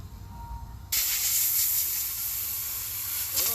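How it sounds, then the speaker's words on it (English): A steady, close hiss of Cerakote coating being sprayed onto a car headlight starts abruptly and continues without a break, with a brief shift in tone near the end. "So we're gonna spray in all these corners."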